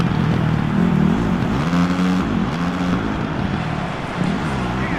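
Motocross bikes racing on a dirt track in the final lap of an A-main, engines droning and revving steadily and loudly throughout, with a commentator talking over the engine noise.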